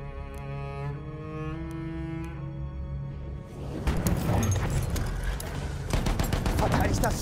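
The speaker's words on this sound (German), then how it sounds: "Feindliches MG!" Enemy machine gun fire in a Battlefield war game: a sustained tonal hum gives way to dense, rapid, loud bursts of gunfire that continue to the end.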